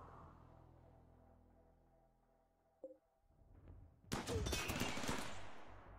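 RimWorld colonists open fire in a mortar fight, with a short, quiet ambient lull and a faint single report before a loud, dense volley of rapid gunfire erupts and carries on to the end.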